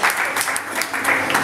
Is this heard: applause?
yes